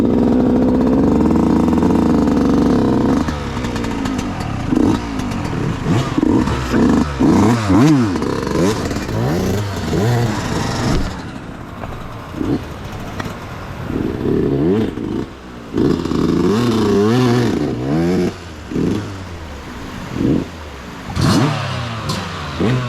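An enduro motorcycle starts on a mountain trail, then idles and revs repeatedly in loud, close bursts before settling, with brief voices around it.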